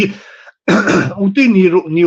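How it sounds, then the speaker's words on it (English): One short, raspy throat clearing close to the mic, framed by brief bits of voice before and after. "I'll clear my throat, right?"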